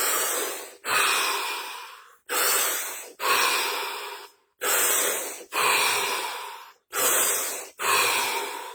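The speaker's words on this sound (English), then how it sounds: "5 deep breaths, 30 seconds," A person taking slow, deep breaths in a quiet room, close and loud, with about five long breath cycles made up of forceful airy inhales and exhales in a steady rhythm, and no talking.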